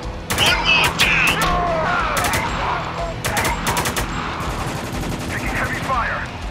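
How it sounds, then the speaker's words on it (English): Heavy gunfire in Spec Ops: The Line: dense, loud automatic bursts and shots run on without a break, mixed with shouting voices and battle noise. "Taking heavy fire."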